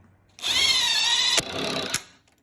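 A power drill whines steadily as it bores holes into wood, with a vacuum hooked up, a sharp knock midway and another as it stops, loud and close.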